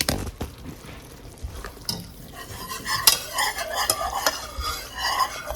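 A whisk beating a thick breakfast gravy paste in a pan, with quick, close clinks and scrapes against the metal over a faint sizzle.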